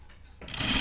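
A sewing machine stitches binding onto a quilted zip pouch, a quiet lead-in giving way to a louder, steady whirring run of stitching in the second half.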